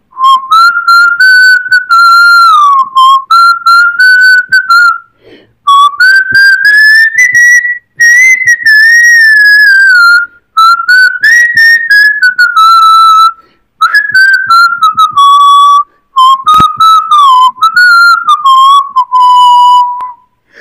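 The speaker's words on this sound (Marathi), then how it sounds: "मी शिट्टीतून गाणं म्हणून दाखवणार" A person whistles a song melody loud and close, in clean phrases several seconds long separated by brief pauses, with no other sound.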